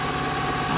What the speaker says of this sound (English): The engine's a little more smooth.